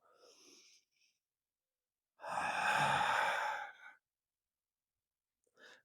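A single long, audible breath during a Pilates exercise for deep core stability: a close, airy rush lasting about two seconds, with a brief faint breath before it and another at the end.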